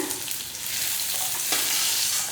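Garlic and three dried red chillies frying in oil for a drumstick-leaf chutney make a close, steady crackling sizzle with no voices.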